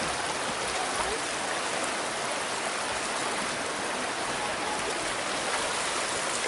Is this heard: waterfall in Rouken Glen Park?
yes